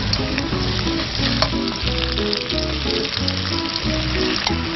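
Squid fry in olive oil in a wok outdoors, giving a loud, steady sizzle and crackle with stirring scrapes, and no voices.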